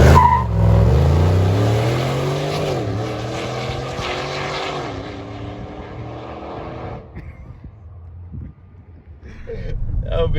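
A Chevrolet Tahoe SUV accelerates hard, its loud engine roar climbing steadily through the gears, then easing off and fading near the end before rising again.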